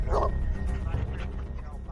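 Search dogs bark in a quick loud burst close by, with yips and whimpering sounds following, while people talk over them.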